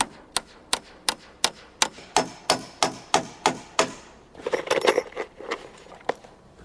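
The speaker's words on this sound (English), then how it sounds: "we lock the miter tight with two finish nails in from each side" Finish nails being hammered into cedar rails to lock a mitered joint, about a dozen sharp, evenly spaced blows ringing out close and loud, followed by a brief denser cluster of quicker knocks and rattles.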